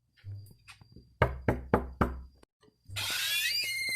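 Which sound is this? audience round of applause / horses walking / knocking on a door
knocking on a door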